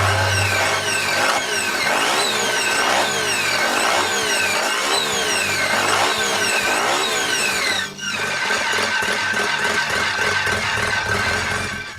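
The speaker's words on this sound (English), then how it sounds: "After 2000 revs, the engine revs up explosively and does not decrease until the cutoff." A smooth, high-pitched rotary-engine motorcycle revs up and down repeatedly, rising in sharp sweeps, then holds a steady buzzing whine near the microphone.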